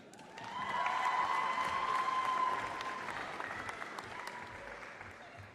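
Applause and cheering from a graduation ceremony audience for the Faculty of Science as pharmacy graduates are called. It swells into a loud, sustained burst with a whistle-like tone, then tapers off steadily.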